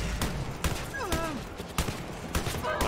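Gunfire in the video game Wolfenstein: a few sharp broadband shots at irregular intervals over a busy game soundscape with sweeping tonal effects, loud and close.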